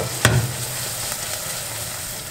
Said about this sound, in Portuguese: Vou deixar essa cebola bem douradinha agora.